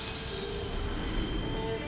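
Runes crushed in Elden Ring give off a bright, glassy shattering shimmer with sparkling tinkles that hold steady for about two seconds.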